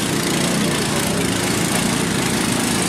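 A small longtail boat on a Vietnamese river races past at full throttle, its engine a loud, dense, close roar that stays continuous throughout, with no talking.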